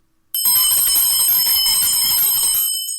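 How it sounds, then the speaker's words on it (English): A bright metallic bell rings out suddenly and sustains with a shimmering, steady tone for several seconds, loud and alone with no voices. "You cannot unhear this bell."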